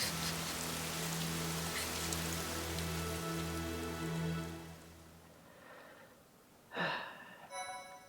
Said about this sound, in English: Terrible day for Rain.